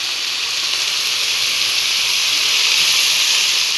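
Vegetables and malabar spinach cook in a pan with cumin, giving off a steady, loud, broad hiss that holds evenly throughout with no talk.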